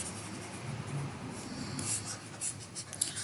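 Pen or marker scratching across paper or a board while a cube-difference math formula is written out, a steady soft rubbing scrawl with small strokes near the end, no talking.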